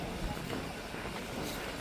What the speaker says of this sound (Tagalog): Uy, hangin ah. Saktong hangin no?